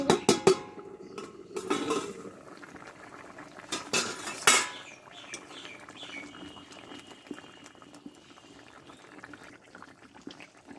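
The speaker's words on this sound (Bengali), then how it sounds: "ঢাকনাটা তুলে" Metal clatters loudly as a lid is lifted off a cooking pot of small fish, potato and eggplant. A quieter simmer and faint kitchen noises follow, and no one speaks.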